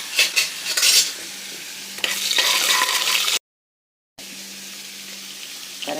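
Raw banana pieces sizzle in hot oil in a pan, with close stirring scrapes and crackling frying; the sound cuts out briefly, then the steady sizzle resumes.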